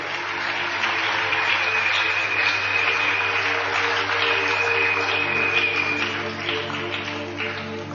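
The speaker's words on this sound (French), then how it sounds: "Est-ce qu'on peut acclamer pour la gloire du Seigneur?" A church congregation applauds steadily and loudly for the whole stretch, a dense wash of clapping with a low sustained hum beneath and some cheering, easing slightly near the end.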